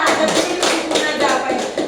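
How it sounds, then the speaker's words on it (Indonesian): A classroom group claps briefly for a student, several quick rounds of close hand claps and taps over about two seconds. "Tepuk tangan Sofia."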